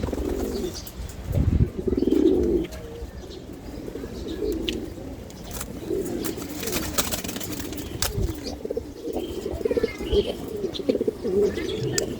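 Racing pigeons cooing, with deep throaty coos repeating in overlapping bursts, close by, alongside some faint chirps and a flutter of wings.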